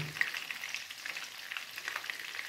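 Mushrooms fry in a pan with sweet chili sauce, giving a close, continuous crackling sizzle with no voices.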